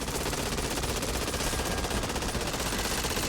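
Continuous automatic gunfire from bots in the Back 4 Blood video game, a dense rattling stream of shots at steady volume, heard alone without talk.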